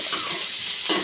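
Onion, ginger and green chilies sizzle in a hot pan for tomato pachadi, a short, steady, close hiss that swells slightly at the end, with no talking.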